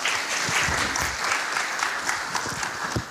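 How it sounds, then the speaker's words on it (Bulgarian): An audience at a tech talk on open source software gives steady, even applause to welcome the speaker, filling the whole short stretch at a constant level. "Така че, вашите аплодисменти за Димо!"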